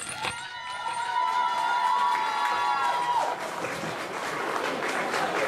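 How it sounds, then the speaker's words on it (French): Audience applause and cheering from a crowd at a live show, a steady wash of clapping with whoops and shouts held at an even, fairly loud level throughout. "De nombreux applaudissements, s'il vous plaît, pour Madame Bourdala."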